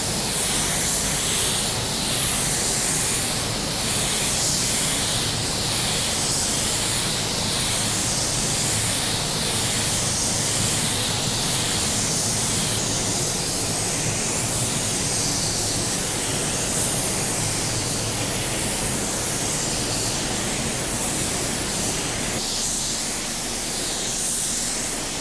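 A car-paint spray gun run at low air pressure gives a steady, continuous airy hiss, loud and close, holding evenly for the whole stretch with no talk.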